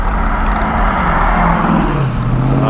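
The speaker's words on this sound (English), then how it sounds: "a nice car went by" A loud car, noisy and smelling of diesel, drives past outdoors near an electric scooter, its steady broadband roar swelling and holding close throughout with no talk.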